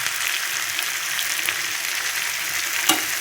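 A pan of mango stir-fry with salt and spice powder sizzles steadily up close, a bright hiss with faint scraping as it is stirred.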